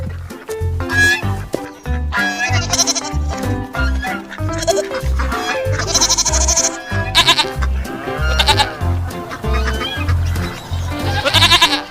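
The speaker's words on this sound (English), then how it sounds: "Goat." Farm goats bleat repeatedly in loud, wavering cries over a steady rhythmic musical backing, with other livestock and poultry sounds mixed faintly behind.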